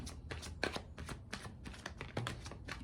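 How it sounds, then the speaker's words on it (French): Tarot cards being handled and turned over during a reading, a quick run of soft papery flicks and slaps, close and quiet with no talk. "la première carte est tombée, la deuxième s'est retournée"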